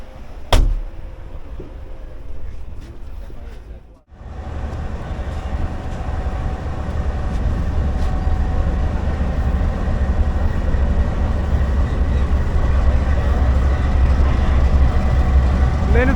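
A Pakistan Railways passenger train led by locomotive GU20 pulls out of Lahore, a steady, loud rumble of rolling coaches and engine drone that builds gradually and fills the whole stretch, heard from inside an old coach.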